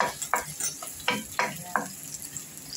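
Onions frying in a pan as the first step of chicken biryani, with soft sizzling and a few sharp stirring scrapes in an irregular rhythm, close and fairly quiet.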